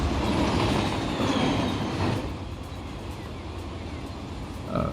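A freight train running in Run 8 Train Simulator, a rolling rumble with rattling wheel noise, louder at first and easing slightly before a brief rise at the end.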